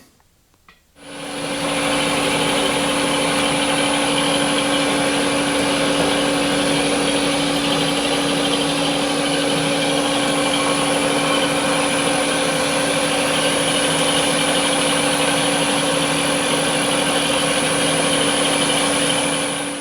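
Wells Index milling machine starting up and running with flood coolant, a loud, steady motor hum with constant tonal whine and coolant hiss, continuous and close after a brief quiet start.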